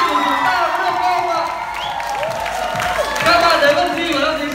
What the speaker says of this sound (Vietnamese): Mọi người có thể dùng một tràng pháo tay thật lớn cho các thí sinh của chúng ta được không ạ?